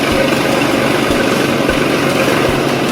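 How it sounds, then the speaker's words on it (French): John Deere 9570 RT tracked tractor engine running at harvest, a loud steady heavy rumble with faint periodic low thumps, continuous and close with no talk. "Un monstrueux tracteur 9570 RI sur chenille assure la logistique lourde"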